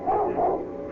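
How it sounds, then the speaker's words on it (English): Muffled dog barks sound from a distance, a couple of soft, dull yelps over a steady low background. "the sound of dogs barking far off somewhere"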